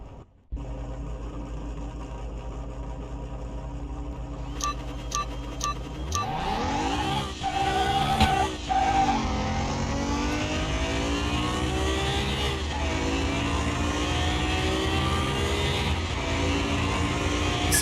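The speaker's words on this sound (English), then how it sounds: "Old school engine." An Oldsmobile Cutlass Supreme engine in Car Mechanic Simulator 2021 idles steadily, then revs hard from about six seconds in, climbing and dipping through loud sustained roars with a slight flutter, close and with no voices.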